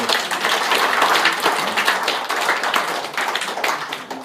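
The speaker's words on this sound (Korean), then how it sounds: "성년의 날 앞으로 책임지고 살라고 박수 한번 좀 쳐주시다." A church congregation claps during a Sunday service. Dense, brisk hand clapping from a room full of people fills about four seconds, rising and falling slightly.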